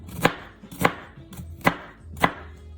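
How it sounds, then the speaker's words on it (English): A knife dices a Vidalia onion on a cutting board: five crisp, evenly spaced chops, close and clear, with no talking. "I cut through the onion this way about 3 times. Then I cut across this way, the opposite way."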